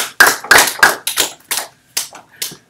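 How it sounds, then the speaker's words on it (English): A small class claps in a few sharp, separate bursts, about eight distinct loud slaps close by that taper off with gaps between them, no talking over them. "Nice round of applause."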